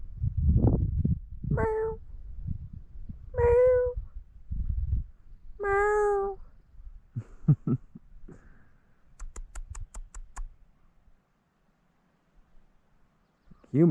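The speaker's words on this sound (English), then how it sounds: "Come here, kitty, kitty, kitty." A cat in the wild Kahshe Barrens lake country meows three times, clear and fairly close, with a voice calling softly before and after and a few faint clicks.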